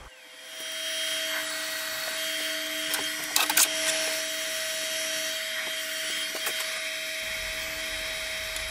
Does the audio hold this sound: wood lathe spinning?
yes